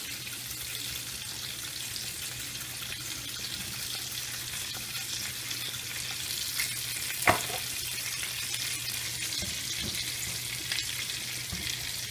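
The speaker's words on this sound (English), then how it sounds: "We're going to saute that until it starts to caramelize. No butter here, just some olive oil." Food sautéing in olive oil until it caramelizes, a soft, even sizzle and crackle held throughout at moderate distance, with a single sharp tap of a utensil partway through.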